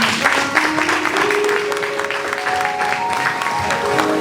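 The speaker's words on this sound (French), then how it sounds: "applaudis madame" An audience at a royal gala evening applauds, with dense, steady clapping throughout and sustained tones running underneath it.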